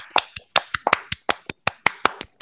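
Sharp single hand claps ring out close up, roughly a dozen in an uneven rhythm with brief gaps between them, alone with no talking.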